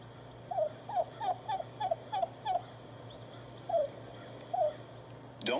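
Wild turkey yelps in a series of short, evenly spaced calls, then a brief pause and two more, moderately close over a steady low background hum, with no voices.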